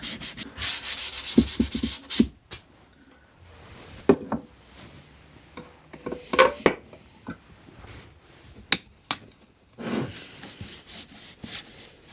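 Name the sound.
hand sanding rough bits of wood on a homemade thicknesser part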